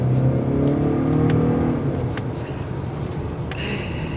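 A 2023 Acura RDX A-Spec in sport mode pulls away from around 20 mph, its engine drone rising and steady inside the cabin, continuous and fairly loud with a faint whir on top.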